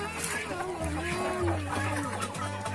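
Young chicks peep in high, wavering chirps, several birds crowding close together with clucking adult fowl underneath and voices talking nearby.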